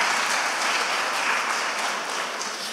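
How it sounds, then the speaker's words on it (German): Steady, dense applause from a conference audience at a talk at re:publica 2014, a continuous close wash of many clapping hands with no voices over it. "das ist doch mein Applaus wert"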